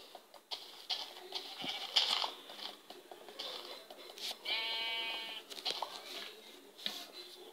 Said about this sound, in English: I see sheep.